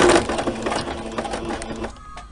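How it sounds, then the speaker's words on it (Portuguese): A sewing machine stitches an appliqué on a romantic apron, running in quick rattling bursts, pausing, then making a short backstitch, close and fairly loud, with the motor whine fading near the end. "eu costuro um ponto acima do que eu já costurei e dou um retrocesso"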